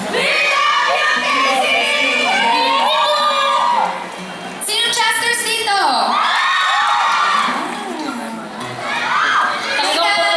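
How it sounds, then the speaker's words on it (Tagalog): Live studio audience at an X Factor Philippines taping cheering and shrieking loudly in sustained bursts, with a brief lull between them, and a host's voice speaking over the crowd. "Talagang putol na putol yung sigaw nila."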